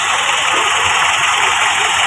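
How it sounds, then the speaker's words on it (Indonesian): A car engine fitted with a fuel vapour reactor, with a Pertamax Turbo vapour line opened, idles loud and close in a steady, unbroken hum with no voices. "suara mesin lebih halus, lebih stabil getarannya"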